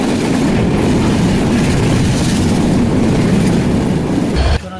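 Interior of the Ekota Express passenger train in motion in Bangladesh: a loud, continuous rumble with wheel clatter on the rails, steady throughout before a sudden drop near the end.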